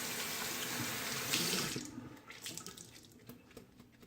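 Tap water runs steadily into a sink while a shaving brush is rinsed under it, then the flow cuts off and soft drips and splashes follow, close and fairly quiet.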